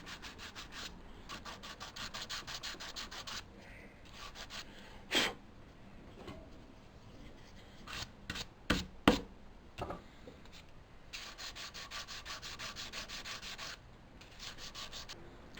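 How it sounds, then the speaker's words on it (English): Hand sanding of wood with 220 grit sandpaper while finishing a Morris chair, producing steady rhythmic rasping strokes in runs, with a few sharp knocks of the block between passes, close and moderately quiet. "Now I'm just finish it up with a higher grade sandpaper. It's a 220 or so."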